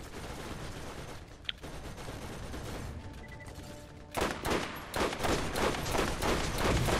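Rapid-fire sniper rifle in Borderlands, heard as a steady, dense stream of close gunfire that grows louder and punchier halfway through, with bursts following each other quickly.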